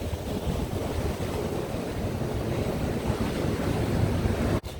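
Wind buffets the microphone on a beach beside breaking surf, a loud, continuous roar of gusts and waves with no voices, ending in a sharp knock.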